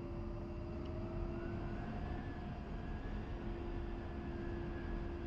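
A-10C jet aircraft in DCS World, engines roaring in a steady, loud, continuous drone with a sustained whine that rises slightly as it takes off; no voices.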